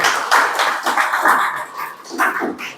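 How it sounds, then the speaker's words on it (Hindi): A group of students claps together for a classmate after mock test results, producing a dense, steady patter of applause for about three seconds with slight swells. "तालियां बजाइए"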